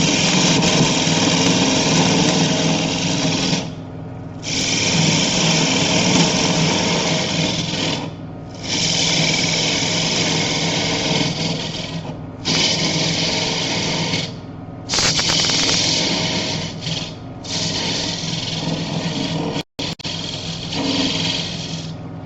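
A power saw cutting wood to make a bird feeder, a loud steady whine close by in a series of long cuts broken by short pauses, with no voices.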